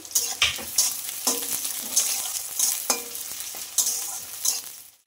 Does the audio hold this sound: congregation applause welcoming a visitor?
no